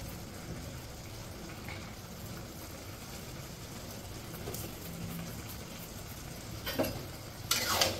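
Khichuri cooking in a pan gets stirred, a soft scraping and gentle sizzle running quietly throughout, with a brighter clatter of the spoon near the end.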